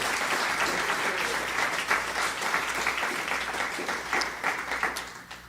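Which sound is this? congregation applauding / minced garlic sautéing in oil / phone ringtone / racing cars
congregation applauding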